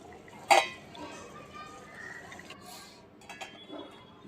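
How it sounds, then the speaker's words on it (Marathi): A single sharp metallic clink of a small lid set onto a pot of boiling Konkani dried-prawn curry, followed by faint kitchen clatter, a soft bubbling background and someone talking. "एक छोटंसं झाकण ठेवून देऊया आपण थोडा वेळ"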